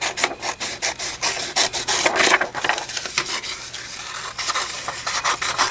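Scissors cut out a paper leaf rubbing in a steady run of close, crisp scraping and rasping strokes that rise and fall in loudness, with no talking.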